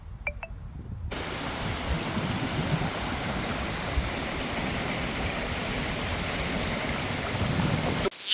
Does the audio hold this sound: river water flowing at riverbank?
yes